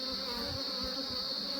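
Honeybees buzz steadily around a Flow Hive, a continuous close drone holding without a break.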